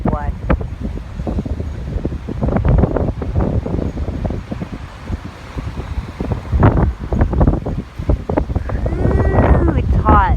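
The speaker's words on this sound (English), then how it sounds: "It's hot and windy, and the waves apparently are huge" Strong wind gusts buffet the microphone in a hot, windy seaside spot with huge waves, producing loud irregular rumbling bursts that rise and fall, with a few faint voices underneath.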